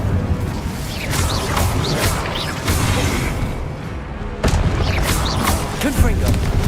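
Fire spell blasts from a wand in the Hogwarts Legacy video game, with repeated whooshing bursts and booming impacts over a steady rumble of combat, loud and close.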